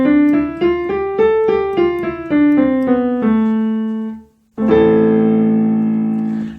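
Keyboard plays an A natural minor scale on white keys only, clear separate notes stepping up and back down in an even rhythm, then a held chord rings out loudly after a short pause.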